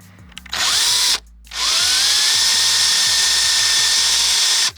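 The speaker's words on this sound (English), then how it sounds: "So I'm drilling pilot holes at an angle." A power drill bores angled pilot holes into wood during shelving work for a DIY Astro van build, whining loudly in two bursts separated by a brief pause, with the motor pitch rising as each run spins up.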